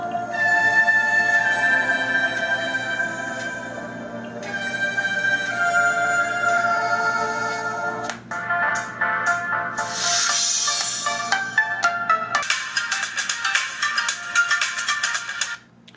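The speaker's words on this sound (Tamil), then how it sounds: "நம்ம சிம்பிளாக வந்து ஒரே ஒரு சாங் ப்ளே பண்ணுறோம்" A song plays loudly from a coin-sized Bluetooth speaker, bright electronic melody lines carrying on steadily with no voices over it.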